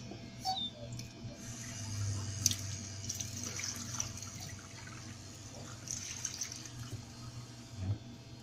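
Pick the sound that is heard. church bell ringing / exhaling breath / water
water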